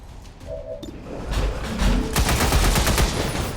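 Video game gunfire in XCOM Long War of the Chosen comes as loud, rapid suppressive bursts of shots that build after a quieter start and then keep up a steady, dense crackle.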